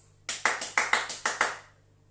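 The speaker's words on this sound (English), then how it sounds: "Clap your hands like this." Seven sharp hand claps in an even rhythm to a children's action song sung at home, close and distinct, each with a short decay and no voice over them.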